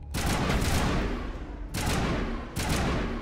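Gunfire in the video game Mass Effect Legendary Edition, three loud sustained bursts of rapid shots, each a dense crackling volley with short gaps between, close and dominant, no talking.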